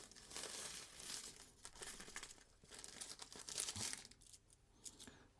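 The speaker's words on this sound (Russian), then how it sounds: "Бумажечку убираем." Paper is crumpled and crinkled by hand while a parcel of radio components is unpacked, giving a close, busy run of rustling and tearing crackles with brief pauses and no talk.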